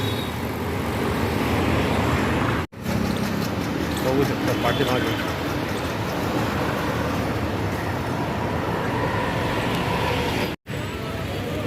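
Morning road traffic in Ahmedabad around ten o'clock: a steady wash of passing vehicles and engine rumble runs throughout, close and fairly loud, under someone talking.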